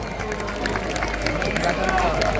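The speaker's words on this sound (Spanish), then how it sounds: "El aplauso para todos ustedes" Audience applause at a concert in A Coruña, a steady dense wash of clapping and crowd noise with a voice speaking over it.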